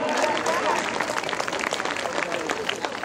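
An audience claps loudly to welcome a guest professor at a public gathering, a dense sustained wash of many hands close by with a murmur of crowd noise underneath.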